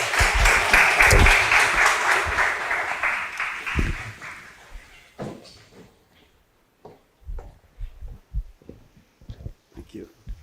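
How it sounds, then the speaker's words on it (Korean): Audience applause welcoming a priest speaker at a theology colloquium, a burst of clapping in the first few seconds that fades out, followed by sparse scattered thumps and handling noises. "박수로 맞아주십시오."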